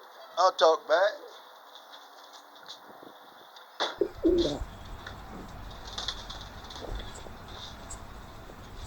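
Pet pigeons coo in a few short bursts near the start, then someone speaks while softer cooing and chirps continue in the background.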